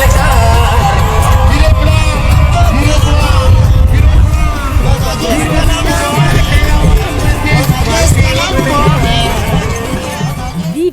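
A large crowd gives a head of state an enthusiastic welcome, a constant dense roar of cheering, shouting and babbling voices that stays loud and close for the whole stretch.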